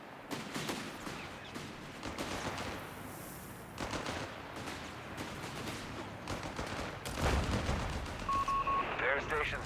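Pack howitzer and other weapons firing in a Company of Heroes 3 battle, rolling bursts of gunfire and heavier booming shots layered under battle noise, with a sharper, louder blast near the end.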